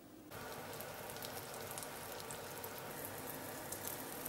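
A vegetarian patty sizzles in a well-heated frying pan, a steady, close hiss like heavy rain that begins abruptly and holds evenly throughout.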